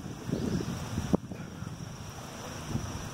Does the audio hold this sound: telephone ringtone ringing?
no